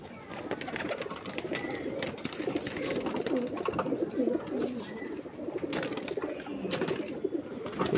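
Pigeons coo steadily on a rooftop loft where silkie hens are also kept, a continuous murmur of soft, throaty calls with occasional wing flutters and light bird chirps, close and moderately loud, with no talking.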